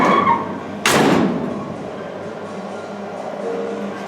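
A single solid thud of a car door slamming shut, followed by quiet room tone.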